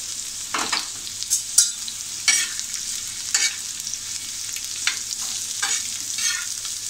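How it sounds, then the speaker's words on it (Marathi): A large onion frying over high heat in a pan, a bright continuous sizzle broken by several bursts of stirring, close and alone without talk. "1 कांदा घेतला होता मी मोठा, हे मी थोडासा रंग बदलेपर्यंत भाजून घेते"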